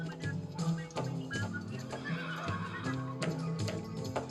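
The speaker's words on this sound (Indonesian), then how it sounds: "Ada kedengaran suara kuda datang." Horse in a battle royale dungeon roguelike game whinnies loudly while rhythmic hoof clip-clops approach, repeated neighs over steady footfalls.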